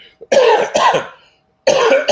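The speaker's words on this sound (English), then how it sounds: "Coughing again." A few harsh coughs close up, two quick bursts then a pause before another, no talking.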